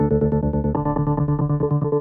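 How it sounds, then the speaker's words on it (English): Sustained chords through a Chase Bliss Reverse Mode C delay pedal, chopped by a reverse sawtooth tremolo into a steady, fast pulsing rhythm that stays loud throughout, changing chord partway and cutting off sharply at the end. "Using the reverse sawtooth tremolo can make some choppy rhythms that sound like this."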